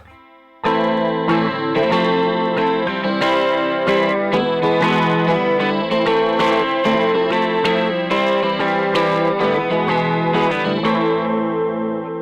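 Electric guitar played through an Angel Wing chorus pedal set at 12, strummed chords with a shimmering, wavering modulated tone, loud and sustained throughout with no talking.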